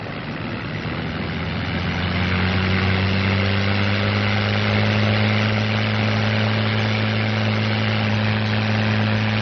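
A P-51B Mustang's engine runs for takeoff, a loud continuous droning roar with deep steady tones that build slightly and then hold, with no voices over it.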